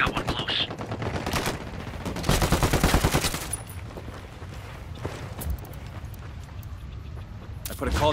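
Rapid bursts of automatic gunfire ring out in Ghost Recon Wildlands, loud and close, with game effects continuing afterward.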